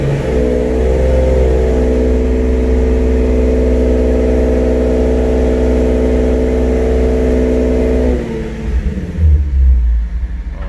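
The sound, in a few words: car engine revving during a dyno pull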